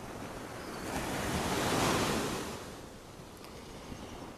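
Ocean waves wash ashore at Dover Beach, Barbados, on a calm, glassy morning: a soft, steady surf rises to one fuller swell in the middle and then eases back, with light wind buffeting the microphone.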